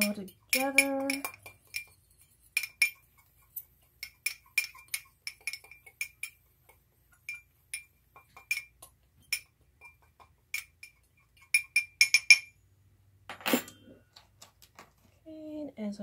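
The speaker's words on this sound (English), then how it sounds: "So I'll mix that all together." Spoon or whisk clinking against a bowl while pumpkin bread ingredients are mixed, a run of sharp, irregular taps and scrapes, close and fairly quiet, with brief talk at the start and end.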